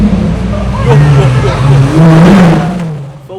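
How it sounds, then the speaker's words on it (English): A loud, sustained Lamborghini Aventador S engine revs and rumbles for a few seconds, rising and falling in pitch, with crowd noise mixed in, then cuts off. "An Aventador S revs, flames shooting from the exhaust,"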